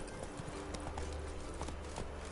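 Hooves of Roach, a horse in The Witcher 3, clip-clop at a steady trotting rhythm, soft and slightly distant over a low continuous background rumble, with no speech.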